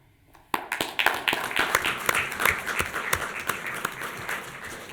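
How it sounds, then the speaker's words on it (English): Applause breaks out at a township trustees meeting, starting abruptly after a quiet moment and continuing as moderate, irregular clapping from a modest crowd in a room. "you deserve the applause"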